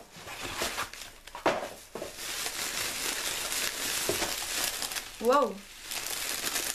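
Crinkling and rustling of packaging as a mystery box of perfume samples is unpacked indoors, steady close handling noise with soft crackles, and a person briefly exclaims partway through.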